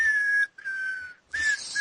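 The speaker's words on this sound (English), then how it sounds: "Are you gonna stop whistling?" A person whistles three sustained, clear notes separated by short breaks. The whistling is close and fairly loud, with no talking.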